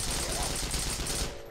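Dense, loud gunfire in the Heroes & Generals shooter game, a continuous rattle of rapid shots close by that cuts off abruptly after about a second and a half.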